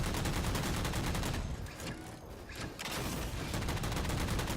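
Rapid sustained gunfire from the Mantis mech in Halo 4 hammers in a dense, loud burst, easing briefly in the middle before resuming at full intensity, with no talk.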